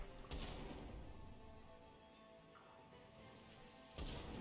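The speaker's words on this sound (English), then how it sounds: "I don't think the acid rain stops." Steady hiss of acid rain pouring in the video game Mass Effect 3, an even, constant wash with brief louder bursts at the start and end, no voices.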